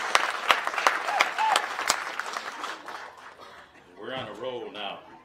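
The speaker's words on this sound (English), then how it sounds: "So let's give a round of applause to our Pokagon Band of Potawatomi" Audience applause at an afternoon guest-speaker event, a round of clapping with a few sharp claps that fades after about three seconds, after which a voice starts talking.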